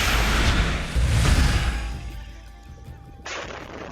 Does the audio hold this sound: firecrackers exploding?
yes